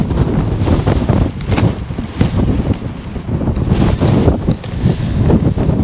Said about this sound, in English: So it's quite a breezy morning.